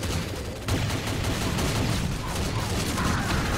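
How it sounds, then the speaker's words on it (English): Dense, continuous gunfire rattles in the video game Doom Alien Vendetta during co-op play, with rapid overlapping shots and booms forming a loud, unbroken barrage. "You hear all the gunfire, right?"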